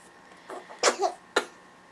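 A single short, explosive sneeze bursts out, followed by a smaller sharp sound, close by in an otherwise quiet room.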